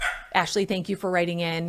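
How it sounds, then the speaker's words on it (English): Several dogs bark in short bursts as someone arrives home, the barks overlapping and mixing with a nearby speaking voice. "That is the sound of the dogs because Stacy's home."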